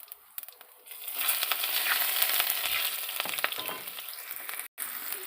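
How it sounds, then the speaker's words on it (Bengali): Chopped onion with cumin seeds drops into hot oil, bursting into a loud, steady hiss and crackle close up that continues with faint clinks. "এবার একটু পেঁয়াজ কুচি দেবো।"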